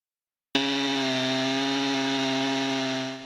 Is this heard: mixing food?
no